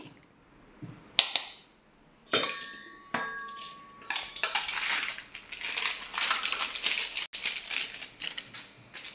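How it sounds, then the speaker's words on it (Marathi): Dry biscuits being crushed into fine powder for an eggless cake, a series of loud gritty crunching and rattling bursts that build into sustained grinding, with a few clinking knocks, no talk. "हे पहा बिस्किट व्यवस्थित बारीक करून घेतले"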